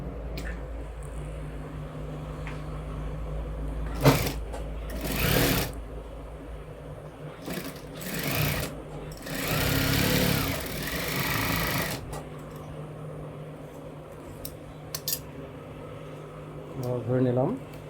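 Tailor's sewing machine stitching a blouse, humming steadily throughout with louder bursts of handling noise, while someone talks over it.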